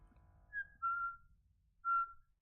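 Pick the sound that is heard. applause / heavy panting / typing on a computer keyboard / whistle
whistle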